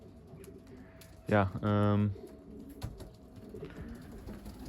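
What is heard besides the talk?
racing pigeons cooing in a loft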